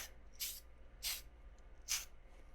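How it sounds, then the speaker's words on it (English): Matte spray paint misted onto an action figure: three short, soft hissing bursts spaced about three-quarters of a second apart, close and quiet over a faint low hum. "Let's give him another matte spray right here."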